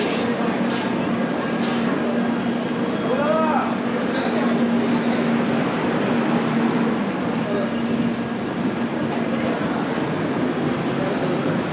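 Kanchankanya Express 13149 rolls past at New Mal Junction station, a loud, steady rumble of wheels and carriages with a faint hum running throughout and voices talking underneath.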